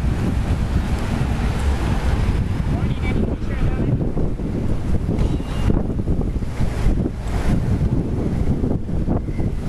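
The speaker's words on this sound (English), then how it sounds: "Hear the water under where I'm standing here." Water lapping beneath a dock at a small marina on a Panama Canal cruise stop in the early morning, a continuous sloshing wash heavily mixed with gusty wind buffeting the microphone.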